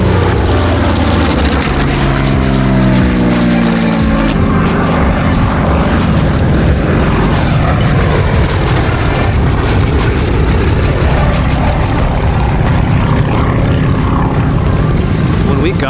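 Propeller aircraft and warbirds flying the traffic pattern at a Flagler Beach, Florida fly-in make a loud, continuous engine drone with shifting propeller tones, steady and close throughout.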